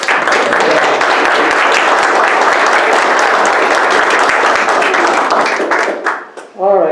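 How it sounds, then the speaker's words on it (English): An audience applauds with loud, steady clapping that fills the room for several seconds and then dies down. "Give Frank a round of applause"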